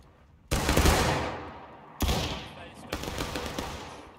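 An infantry company fires musket volleys in the War of Rights video game: three loud, ragged crashes in quick succession, each rolling off into a rumbling tail.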